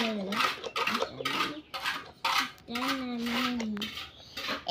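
A utensil scrapes and clinks against a bowl as a biscuit mixture is stirred, a string of close metallic taps and rattles while someone talks over it.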